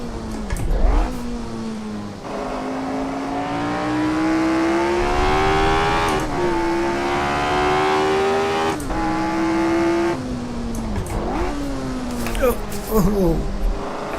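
A Lotus 25 racing car's engine screams around Brands Hatch in the Assetto Corsa racing game, a loud sustained rising and falling note with sharp throttle blips and gear changes throughout.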